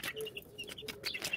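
Backyard hens kept by a family cluck in a quick run of several short, chirpy calls, close and fairly soft, with no speech.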